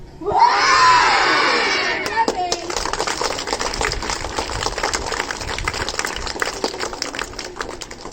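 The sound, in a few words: children imitating lion roar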